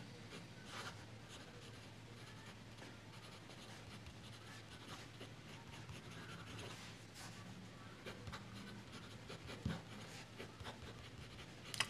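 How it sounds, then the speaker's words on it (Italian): Faint, continuous scratching of a fine Kaweco Student fountain pen nib gliding across porous paper, close up and quiet, with soft rustling throughout. "scrive scivola, scorre molto bene anche su una carta che, come potete sentire, è più porosa dell'altra"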